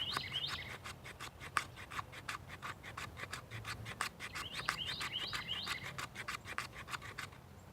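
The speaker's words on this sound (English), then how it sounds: "If you had to do some shaving, say you got some fat wood, we'll make some fat wood dust" A Condor knife shaves fatwood into fine dust, with quick faint scraping strokes repeated in an irregular rhythm, close and quiet, joined by occasional bird chirps in the background.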